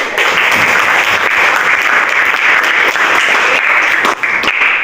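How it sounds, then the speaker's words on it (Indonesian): Students clap loudly together in a classroom after an evaluation, a close, steady burst of applause lasting several seconds with no speech. "Tepuk tangan."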